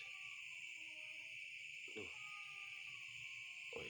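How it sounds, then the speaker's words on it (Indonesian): A couple of short cat meows break through a steady, constant background hum, spaced a few seconds apart. "Meong geger amat, Meng"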